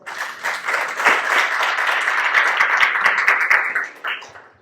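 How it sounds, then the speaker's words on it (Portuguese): Audience clapping at a talk on technical interviews for hiring analysts, a dense burst of applause swelling quickly, holding steady for a few seconds, then thinning out with a few last claps. "Pessoal, uma salva de palmas."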